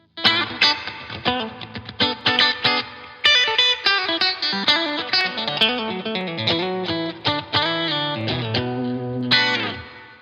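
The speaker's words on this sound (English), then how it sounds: "I've just got a compressor, and I'm going into the amp with a little reverb on there" Electric guitar run through a Logic Pro amp plugin with a compressor and a little reverb, playing a lively riff of plucked notes and strummed chords, with a continuous effected tone and a reverb tail, no voices.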